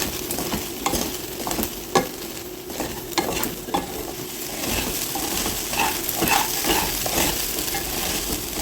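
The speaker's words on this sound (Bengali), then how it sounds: "এবার সমস্ত কিছু খুব ভালো করে মিশিয়ে নেব।" Soaked flattened rice is mixed with grated coconut, salt and a little sugar, giving a continuous soft, moist scraping and stirring with light taps, close and steady, with no talk.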